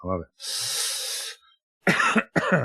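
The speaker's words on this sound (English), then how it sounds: "I still haven't got rid of my cough" A single cough is followed by a long, hissing exhale, then two more short, harsh coughs close to the listener.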